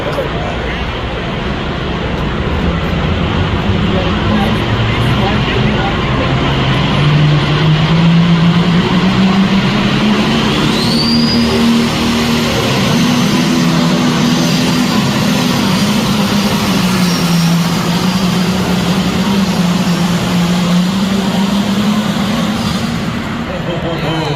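A 9,500-pound limited pro tractor roars steadily at a tractor pull, its loud engine drone rising and falling in pitch as it works down the track, with an announcer talking over it throughout.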